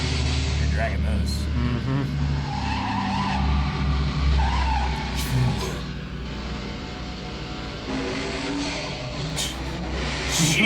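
Cars skid and race through a chase scene in the James Bond film Goldfinger, with tires squealing and engines roaring in loud bursts over a film soundtrack, while people talk and react across it.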